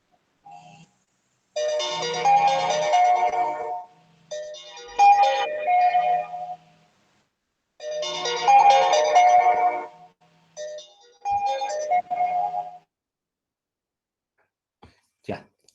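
A mobile phone ringtone goes off during an online criminal-law hearing, playing four repeated melodic phrases, fairly loud and close, with pauses between them and no talking over it.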